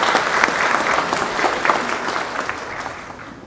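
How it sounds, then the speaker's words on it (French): Audience applause welcoming a professor before a lecture on quantum biology, a fairly loud burst of many hands that gradually fades out. "de l'applaudir très fortement"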